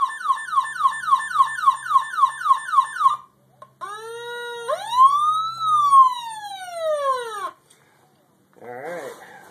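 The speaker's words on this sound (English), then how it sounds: "The hyper yelp." A Federal Signal PA-15A siren cycles through a rapid, pulsing electronic hyper yelp warble, then shifts into a rising and falling wail that cuts off, followed by a brief different tone.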